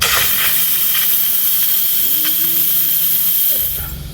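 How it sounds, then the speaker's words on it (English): An Instant Pot pressure cooker venting steam, a loud continuous hiss running nearly unbroken for several seconds before tapering off at the end. "It's keeping it warm right now, but I got to release the steam."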